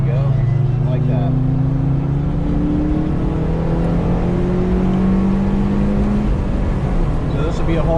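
A car on the Carolina Motorsports Park track during a high-performance driving session accelerates hard, its engine note climbing steadily in pitch as a loud, continuous drone throughout.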